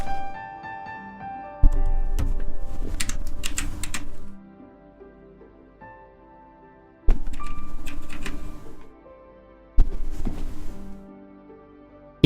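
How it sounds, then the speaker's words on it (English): Bursts of brisk clicking keystrokes on a new mechanical keyboard with lots of lights, three separate typing runs close up with quieter gaps between them. "It's a new mechanical keyboard, it's got loads of lights on it, it's really nice."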